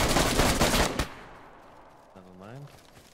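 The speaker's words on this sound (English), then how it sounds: "I'll shoot him." Rapid burst of gunfire in the survival game DayZ, loud and dense for about a second, then cutting off into quieter game ambience with a short rising tonal sound near the end.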